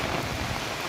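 Heavy rain from a violent thunderstorm with strong wind, a steady dense wash of drops that stays loud and close throughout, with no voices.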